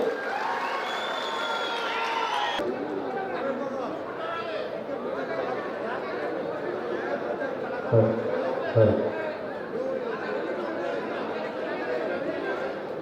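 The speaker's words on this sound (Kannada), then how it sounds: "ಈ ವೇದಿಕೆ ಮುಖಾಂತರ ಅವರೊಂದು ಜೋರಾದ ಚಪ್ಪಾಳೆ ಬರಲಿ." An audience at an Ambedkar Jayanti celebration in Nanjangud breaks into sustained, dense clapping that holds steady for the whole stretch, mixed with crowd chatter, a few cheers and light laughter.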